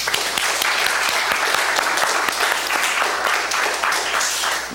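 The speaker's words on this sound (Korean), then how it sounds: "우리 성가대와 찬양팀 감사 박수 한번 드리겠습니다" A church congregation claps in thanks for the choir and worship team, dense loud applause sustained throughout with no speech over it.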